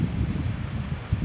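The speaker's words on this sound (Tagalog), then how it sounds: "Lakas ng hangin, no?" Strong wind gusting across an open rural yard in Batangas province, a steady broad low roar with buffeting against the microphone and no let-up through the moment.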